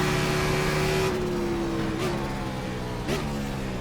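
A NASCAR stock car engine drones steadily at high revs in the iRacing sim at Circuit of the Americas, holding a sustained tone with brief pitch dips as it shifts or lifts.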